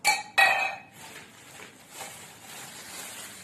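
An oven-proof glass clinks sharply twice in quick succession as it is handled, bright and close, then the ringing fades into quiet room noise.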